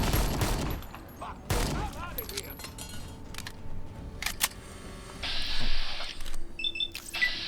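Gunfire in the Fallout Tale of Two Wastelands video game: a few loud, sharp shots early on, then scattered clicks and clanks while a voice talks over the game sounds.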